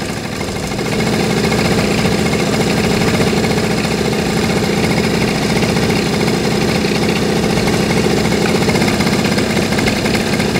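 A scooter engine idles steadily close by while its carburetor mixture screw is turned in quarter-turn steps, a continuous even thrum with no voices over it.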